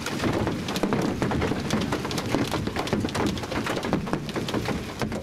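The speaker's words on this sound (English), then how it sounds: "Large hail, golf ball, a little larger, beating the heck out of all the cars" Golf-ball-sized and larger hail pelts parked cars during a thunderstorm, a dense, continuous clatter of hard impacts mixed with heavy rain, loud and steady throughout.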